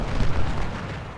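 Civil War cannons in the Ultimate General: Civil War video game at the battle of Chantilly boom out as a brief, deep, rumbling roar of artillery fire.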